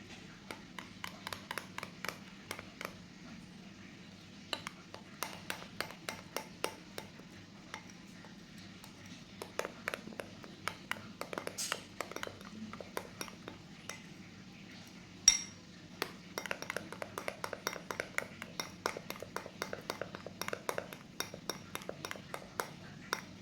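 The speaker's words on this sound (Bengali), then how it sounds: "ভালো করে আগে মিশিয়ে দিচ্ছি" A spoon mixing liquid milk in a bowl while making chicken roast, with rapid light clinks and taps of metal against the bowl in quick bursts and short pauses, close and quiet.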